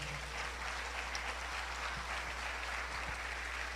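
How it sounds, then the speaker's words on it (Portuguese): Church congregation applauding during a Sunday morning service, a steady, dense wash of many hands clapping together that holds evenly throughout, with a low hum beneath it. "Quem pode aplaudir ao Senhor por isso nessa manhã?"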